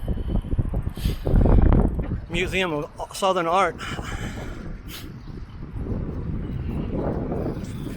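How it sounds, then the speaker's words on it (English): Rumbling, gusty wind buffeting a microphone during a city bike ride, low and blustery, rising louder toward the end with no clear speech. "Pardon the wind. If the wind's too bad, just turn the volume down."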